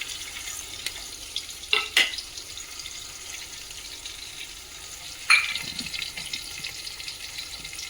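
Capsicum frying in a pan for chicken biryani, a soft continuous sizzle with a few sharp clinks and scrapes of stirring close by, with no voices.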